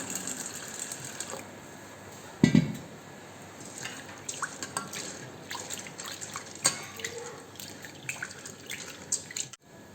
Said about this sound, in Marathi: ही डाळ स्वच्छ पाण्याने धुवून घ्यायची आहे।